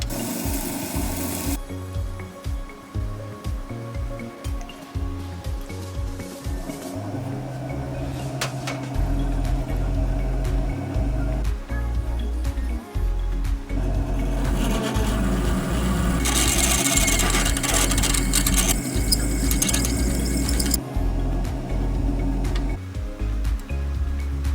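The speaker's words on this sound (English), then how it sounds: "First I had to drill and tap a hole in the steel" A continuous mechanical whir of a wood lathe drilling and tapping a hole in steel, with scraping and grinding of metal, loud and close, shifting in pitch and texture throughout.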